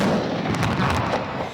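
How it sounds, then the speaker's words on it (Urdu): A ceremonial cannon salute is fired for Eid Milad-un-Nabi, with booming, rumbling blasts that blur together in a dense, loud wash and barely fade over the short stretch. "وفاقی دارالحکومت میں 31 اور صوبائی دارالحکومتوں میں 21 توپوں کی سلامی دی گئی"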